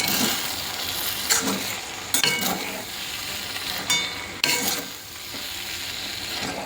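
Hakka noodles tossed with masala in a hot frying pan, a continuous loud sizzle broken by repeated scraping stirs and occasional clinks of utensil on metal.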